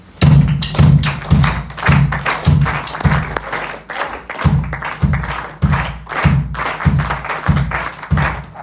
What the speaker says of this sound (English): can you just clap the group of 3 for me